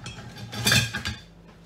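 A spatula scraping cake batter from the bottom of a mixing bowl, making a brief close scrape and clink that swells and fades over about a second, with no one speaking.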